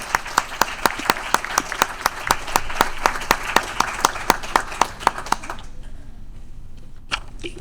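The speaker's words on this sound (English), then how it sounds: "So, give them a round of applause because they're awesome." Audience at a city council meeting applauding young award winners, crisp individual claps forming a steady rhythmic beat that fades out near the end, with a few last claps after a pause.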